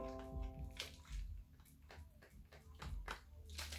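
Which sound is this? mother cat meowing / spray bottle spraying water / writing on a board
spray bottle spraying water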